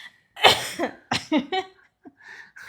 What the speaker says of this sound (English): I was really trying to make you pause so that I wouldn't interrupt you with my cough